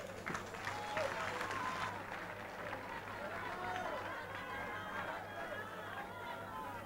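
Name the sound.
audience applause for debate candidates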